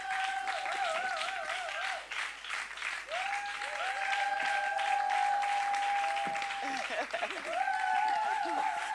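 A church congregation applauds a sister called up to give her testimony, steady clapping running throughout while strong sustained tones of singing or an instrument ride over it.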